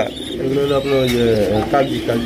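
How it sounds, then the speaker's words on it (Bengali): White Kagzi pigeons, a pair kept with two chicks at a breeding farm, coo in soft rolling phrases close by, with faint chirps and some background noise throughout the short stretch. "হোয়াইট কালারের কাগজি কবুতর আপনারা দেখতেই পাচ্ছেন মাশাআল্লাহ"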